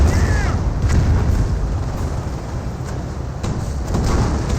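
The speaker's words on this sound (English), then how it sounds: "now here comes a rocket barrage there" A rocket barrage in the Company of Heroes World War II strategy game lands as a series of heavy booms and blasts over a rumbling battlefield bed, loud and close.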